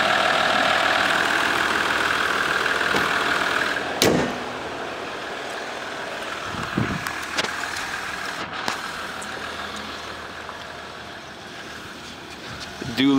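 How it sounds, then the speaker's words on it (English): A 2014 Dodge Ram 1500 EcoDiesel pickup with dual exhaust idles with a low, steady rumble, broken by a couple of brief clanks and knocks. "Dual exhaust, not very loud like I thought it would be."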